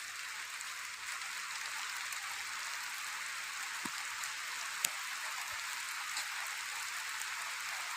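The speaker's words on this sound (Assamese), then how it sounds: "পূৰা বৰষুণ দি আছে।" Heavy rain pours steadily for the whole stretch at Letekupukhuri, Narayanpur, Lakhimpur, a dense even hiss with a couple of faint drips or knocks and no voices.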